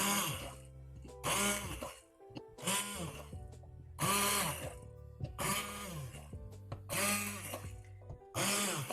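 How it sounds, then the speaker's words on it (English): Immersion blender pulsing butternut squash soup: about seven short whirring bursts of roughly a second each, the motor pitch rising and falling within each pulse, separated by brief pauses, loud and close. "That's why it's called an immersion blender. And then just do little pulses."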